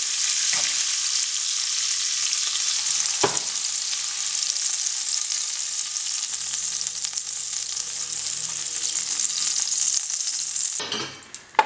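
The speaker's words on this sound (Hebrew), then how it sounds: "עכשיו זה טיגון קל של ממש דקה" Grated carrots sizzle steadily in a hot pan with sesame, a bright continuous frying hiss broken by a few scraping stirs and a louder clatter near the end, with no talk.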